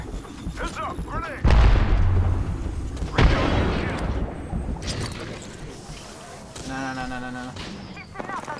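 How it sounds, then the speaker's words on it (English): A grenade explodes in Apex Legends, two heavy booming blasts about two seconds apart amid ongoing gunfire and game effects, with players talking over the action. "Heads up, grenade!"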